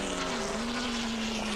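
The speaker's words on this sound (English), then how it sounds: "The Ferrari is motoring its way back up through the field." A Ferrari GT race car roars continuously through a Nurburgring race as a steady, distant engine drone with a sustained droning tone.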